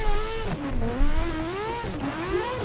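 An 1100hp four-rotor Toyota Supra A90 in the Assetto Corsa racing game, its engine revving up and down in a steady, rising and falling wail, loud and close throughout with no talk.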